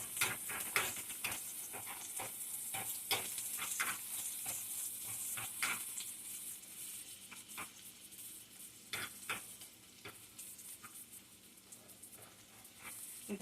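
Chicken sizzles in a frying pan under a constant bright hiss while a utensil scrapes and taps irregularly through it, close and moderately loud, with no talking.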